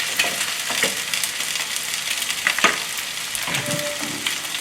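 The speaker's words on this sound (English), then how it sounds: "chicken in, let them sear for a few seconds before you give them a stir" Chicken searing in a hot pan, steady close sizzle and frying hiss with a few scraping stirs of a utensil, no talking.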